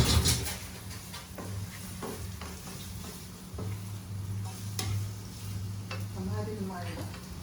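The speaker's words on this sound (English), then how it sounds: "After that, I'll be adding my red onions. I'll saute it a little bit." Red onions sauté in a pan for a Halal chicken casserole, giving a steady low sizzle with occasional stirring scrapes and utensil knocks throughout, with faint voices in the background.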